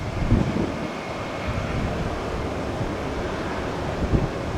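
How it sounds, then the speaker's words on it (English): An aircraft engine at an airport gives a distant, steady roar blended with wind noise, broadband and unbroken throughout. "sounds like we got another aircraft getting ready to time out"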